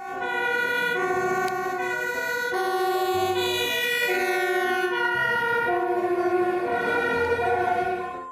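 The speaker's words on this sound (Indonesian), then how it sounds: "Di sini ada mobil pemadam kebakaran." A toy fire truck's electronic siren wails loud and steady, its stacked tones rising and falling in repeated cycles for several seconds with no talking over it.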